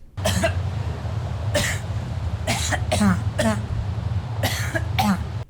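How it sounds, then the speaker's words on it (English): Around seven sharp coughs come in irregular bursts, some in quick pairs, over a low steady background hum. "especially these frickin' coughs"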